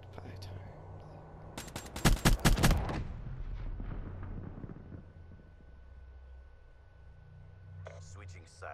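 Bursts of video-game gunfire, a dense cluster of sharp loud shots in rapid succession followed by a lingering rumble, then a few short clicks near the end.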